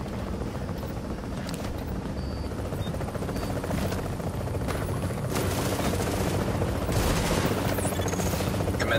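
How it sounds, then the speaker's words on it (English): An extraction helicopter arrives in The Division video game with a steady, dense rotor drone that grows slightly louder, and scattered bursts of gunfire mixed in. "Chopper is inbound."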